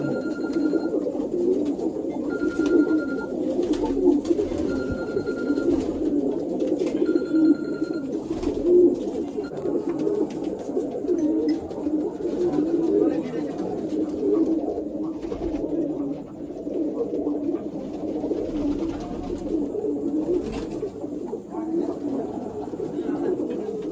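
Golden Ziria line pigeons coo continuously, a dense overlapping low burble from several nearby birds, broken by a few short repeated high electronic beeps.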